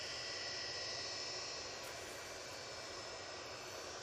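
EasyJet Airbus A320-200 bound for Dalaman at Manchester Airport, a loud, continuous jet engine roar with a hissing high edge, holding steady throughout with no voices.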